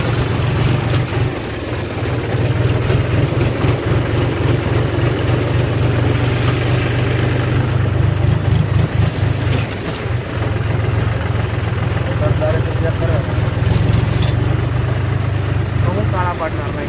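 A tractor engine running steadily while tilling a field, producing a loud, continuous low rumbling drone throughout, with someone talking over it.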